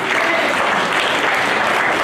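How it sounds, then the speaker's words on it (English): A congregation at a thanksgiving celebration applauds, a dense, steady roar of many hands clapping at close range with no break. "Please, let's clap for him again"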